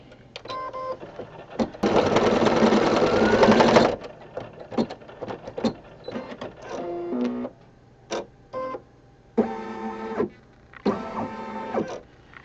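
An embroidery machine stitching a Valentine heart design on a hug rug, loud and close: a long continuous whir followed by short bursts of rapid mechanical stitching separated by brief pauses.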